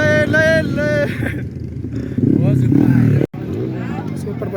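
A modified superbike engine at a hill climbing race in Bogamati, Assam, India, drones and revs beneath loud talk and crowd babble, with a brief cutout partway through.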